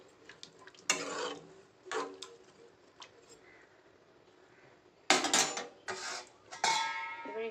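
A spoon knocks and scrapes against a pot while sesame and poppy seed paste is stirred, giving scattered clinks and sharper bursts of metallic clatter with quiet pauses between.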